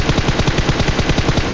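Rapid automatic gunfire in PUBG on the Erangel map, a close, loud, evenly spaced burst of about a dozen shots.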